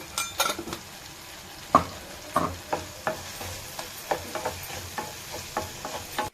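Brinjal pieces frying in a pan with tomato, coriander, tamarind and turmeric, a soft steady sizzle under repeated scraping stirs of a spoon against the pan, close and alone.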